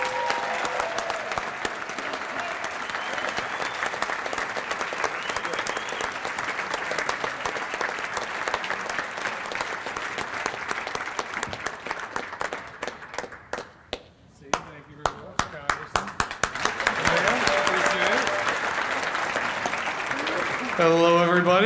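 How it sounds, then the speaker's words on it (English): An audience at a radio station roast claps loudly for a speaker coming up, a dense applause that dips briefly midway and then swells again, with some talk over it. "Please give a big round of applause for Mike Balise"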